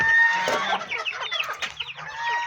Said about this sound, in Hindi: प्योर असील है और प्योर देसी मुर्गियाँ हैं।